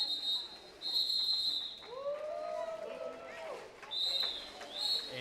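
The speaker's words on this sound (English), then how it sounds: "And with that whistle, that is halftime." Referee whistle signaling halftime in a roller derby game: several sharp, shrill whistle blasts, a couple near the start and more near the end, over arena crowd noise and skate sounds.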